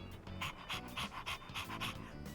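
A dog pants in Persona 3 Reload, a quick, rhythmic run of breathy huffs repeating close by and fairly loud, with no talking.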